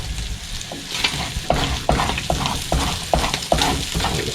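Corned beef hash sizzles and fries steadily in a pan on a narrowboat stove, loud and close, with a utensil scraping and stirring through it every half second or so.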